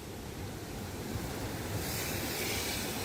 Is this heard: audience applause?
no